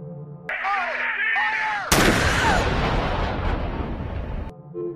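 A sharp, loud gunshot rings out in a scene from the science-fiction film The Day the Earth Stood Still, cutting in over a dense, tense soundtrack and followed by a heavy, rumbling wash of sound.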